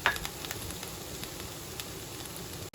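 Chopped mushrooms hit a hot pan for a mixed vegetable hot garlic sauce, with a constant soft sizzle and light crackle, fairly quiet and steady throughout.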